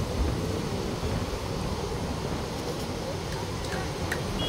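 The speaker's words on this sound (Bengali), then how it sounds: "আমার মোবাইল সহ নড়তেছে বাতাসে।" Strong outdoor wind on a rainy day near rough, wavy water buffets a phone microphone, giving a steady, loud broadband rumble throughout with no clear pauses.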